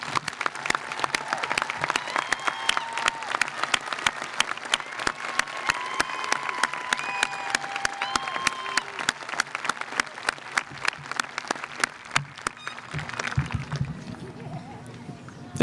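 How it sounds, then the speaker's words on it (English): Crowd in the stands at a high school graduation ceremony applauds steadily and at length, sharp claps crackling throughout with cheering voices mixed in, thinning toward the end. "Would everyone in the stands please join me in a round of applause to show our class of 2021 how much we"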